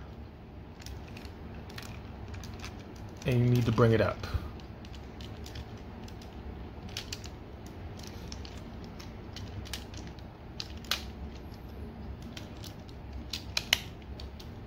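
Plastic parts of a Masterpiece MP-26 Road Rage transforming toy creak and click as the doors are unpegged, one brief strained creak up close followed by small scattered ticks, with a voice speaking quietly.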